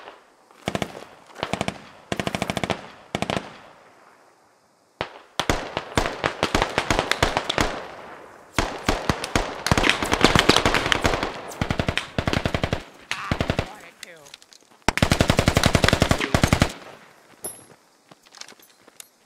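Long bursts of machine gun fire in a first-person shooter on the Kamdesh map, loud rapid rattling volleys in repeated strings with short pauses between, no talking.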